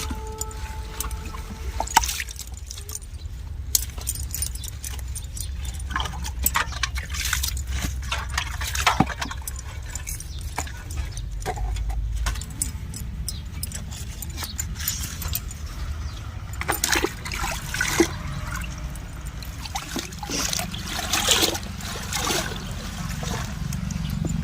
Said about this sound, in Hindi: इस तरह से पानी से तो साफ कर लेते हैं।